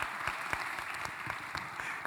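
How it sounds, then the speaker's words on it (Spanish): Audience applause at a FICG 40 film festival panel: a steady, dense patter of many hands clapping that carries on without a break for about two seconds. "aplausos"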